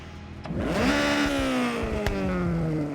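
A Honda CRX with a street exhaust in the Horizon 6 racing game starts and revs, a close, loud engine note climbing quickly then holding a steady, buzzy idle-to-mid rev with a short pop partway through.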